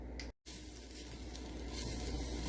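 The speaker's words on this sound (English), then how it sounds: "we're going to just keep moving these sausage links around till we get them brown" Sausage links sizzle and fry in a pan on medium heat, a steady close hiss with faint crackle, broken once by a brief cut-out, with no talk.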